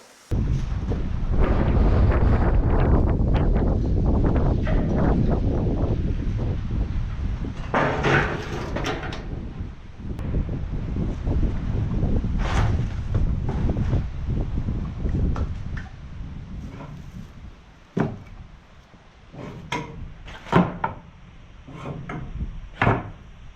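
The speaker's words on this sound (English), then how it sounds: "I've already been getting like probably close to 30-something, 40-mile-an-hour wind gust here" Heavy 30 to 40 mph storm wind gusts buffet the microphone in loud, rumbling surges that rise and fall, with a few sharp knocks and rattles toward the end.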